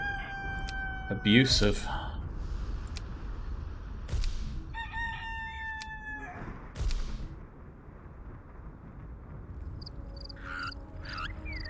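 Rooster crowing in the video game Black & White 2, a short, loud, harmonic call early on, heard over game ambience, with further clucking and animal sounds following.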